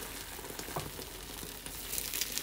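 Egg sizzling and frying in a hot pan for a breakfast sandwich, a steady crackling hiss with brief pops, fairly quiet and close, with no talking.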